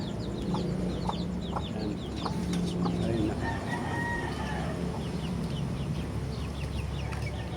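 White Kelso gamefowl roosters and chickens on a farm cluck continuously while a rooster crows in the middle, a dense, busy flock chorus heard up close with steady background noise.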